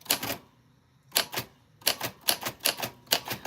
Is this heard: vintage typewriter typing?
yes